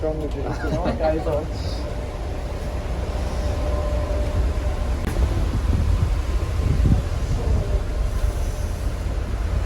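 Strong wind gusts across the outdoor deck of a cruise ship at midnight in New Zealand, a steady loud roar and low rumble that swells slightly toward the end.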